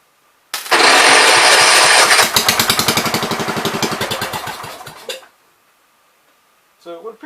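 A 1973 John Deere 110 lawn tractor's small engine, its carburetor just cleaned, starts and runs loud and close for about five seconds with a steady pulsing beat that slowly fades, then cuts out; a brief clatter follows after a pause.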